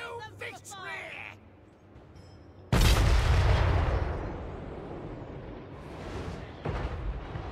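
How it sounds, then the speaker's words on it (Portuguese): Grand Cathay army cannons fire in a fantasy strategy video game, a heavy booming blast that erupts suddenly and rumbles away, followed by a second sharp report, after a brief voice at the start. "Então, canhões à vontade."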